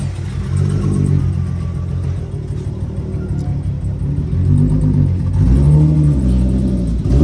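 A VR6-engined car on a street run, its engine droning loud and close with a deep throaty rumble, the revs swelling and easing before a sharper rev climb near the end.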